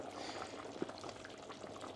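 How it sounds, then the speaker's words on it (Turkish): Beef-on-the-bone stew with dried beans bubbling in a covered pot, a soft, steady simmering hiss with a few small pops, fairly close and without talk. "Yemeğimiz kaynıyor güzelce."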